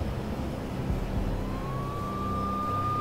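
Police sirens approaching in the Max Payne video game, a faint rising wail emerging midway and holding steady over a low rumbling city background.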